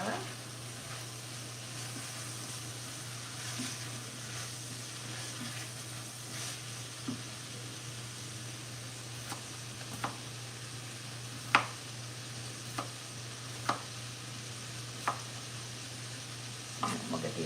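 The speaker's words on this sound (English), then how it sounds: "Let's give this a little stir." A spoon stirs potatoes and sausage in a soup pot over a quiet, sizzling simmer and steady hum, with faint scrapes and a few sharper clinks against the pot.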